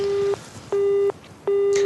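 Telephone busy signal: three steady, evenly spaced tone bursts with short gaps between them, loud and clean with no other sounds.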